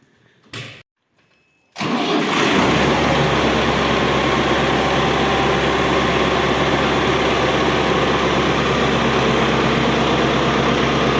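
A brief rustle, a pause, then a 95-horsepower tractor diesel engine cranks and catches, settling into a loud, steady, rumbling idle that runs on without a break.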